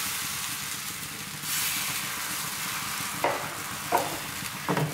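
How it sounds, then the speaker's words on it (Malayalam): Rice batter for neer dosa poured onto a hot pan, a steady sizzling hiss that swells as the batter hits and continues with a few scraping touches near the end. "ഇനി നമുക്ക് ഇതിലേക്ക് ഒഴിച്ചു കൊടുക്കാം കേട്ടോ ഇതുപോലെ."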